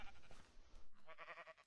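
Sheep bleating in the blocky survival video game TerraFirmaCraft, a couple of short, quiet wavering bleats close together with no talk over them.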